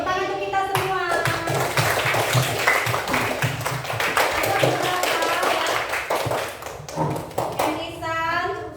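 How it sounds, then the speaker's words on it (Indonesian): A sixth-grade class claps together in a classroom, a burst of fairly close, uneven hand claps running for several seconds, with a teacher and children talking before and after. "Tepuk tangan untuk kita semua."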